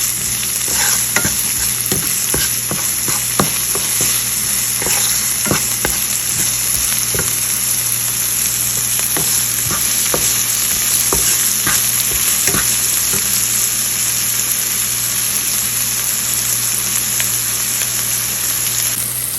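Onions sizzle in a pan with salt as they fry, a steady, close crackle and hiss punctuated by frequent scraping clicks of stirring, continuing throughout without speech.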